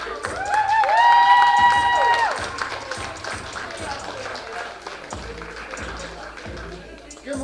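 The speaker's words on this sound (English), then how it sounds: "Give him a round of applause" An audience at a Black History Month honoring event breaks into applause and cheering, loud and sustained, with a brief sung or whooped tone riding over the clapping early on before it settles into steady claps.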